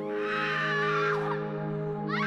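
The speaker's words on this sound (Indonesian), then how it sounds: "aku mendengar jeritan ibu Doni terdengar di dalam telepon." A woman's long, high-pitched scream heard through a telephone, loud and sustained, with wavering harmonics and a shrill rise near the end.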